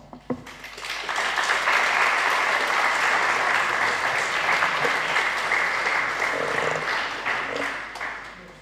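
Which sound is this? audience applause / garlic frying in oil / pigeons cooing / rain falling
audience applause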